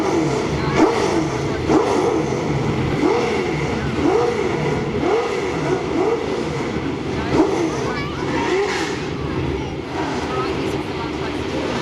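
V8 Supercars race cars rolling out at Eastern Creek, engines droning and revving in repeated rising and falling sweeps at a distance, with a commentator talking over the engines.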